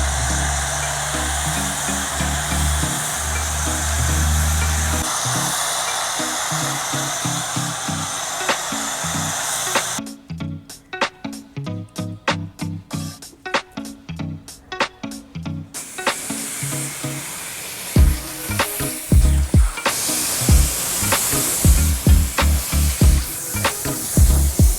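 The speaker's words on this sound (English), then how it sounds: "we'll apply it and we'll let it dwell on here for a couple minutes and then we'll spray it off" Pressure washer and foam cannon spraying degreaser soap off a filthy truck, a loud continuous hissing spray that breaks into intermittent bursts midway, then resumes with thumping water spatter, no talking.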